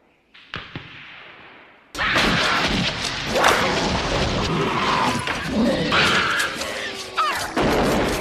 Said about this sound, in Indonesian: tiba-tiba muncullah makhluk tersebut dengan cara mendobrak tembok